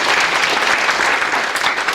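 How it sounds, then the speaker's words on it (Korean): Audience applause at a 50th anniversary founding ceremony for a memorial society, honoring a pastor from Atlanta: loud, dense, continuous clapping throughout. "박수 한번 보내주시기 바랍니다."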